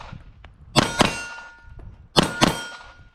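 Pistol double taps striking steel targets at an outdoor range, handgun fitted with a grip-mounted weapon light: two distinct pairs of sharp shots with ringing clangs, the pairs about a second and a half apart, loud and close.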